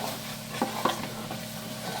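A teaspoon of ginger paste sizzling in a hot pan, steady frying hiss with a couple of light stirring taps near the start, no voices.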